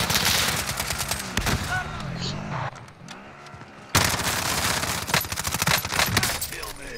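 Rapid gunfire in Call of Duty: Warzone, with dense bursts of automatic shots and a brief lull before another loud volley, mixed with players talking over the shooting.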